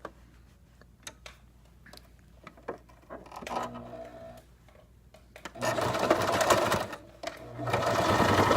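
A sewing machine stitching a straight line on fabric, starting with sparse clicks and short bursts before running in loud, steady stretches of fast mechanical whirring, close by.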